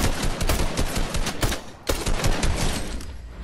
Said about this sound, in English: I'm being shot up, I don't know from where.